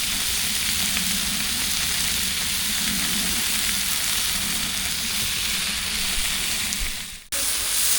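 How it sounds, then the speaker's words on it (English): Food sizzles and crackles loudly and continuously close by on a barbecue outdoors in the rain in Wales, with a brief dip near the end. "All we can hear is sizzling."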